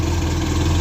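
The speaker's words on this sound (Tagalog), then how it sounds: "Ito na yung ating ginawang makina guys na in-overhaul." Rebuilt Yamaha FX 1800cc personal watercraft engine, 2021 model, running at a steady, loud idle with a deep low rumble, heard briefly and alone.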